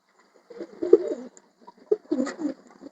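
Pigeons coo close by in soft, throaty bursts, two rounds of gentle warbling calls separated by a short pause in a quiet setting.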